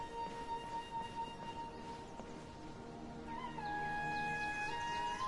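A cat in Genshin Impact's Sumeru region gives a short meow that rises out of steady, tonal game music and effects, with no talk over it.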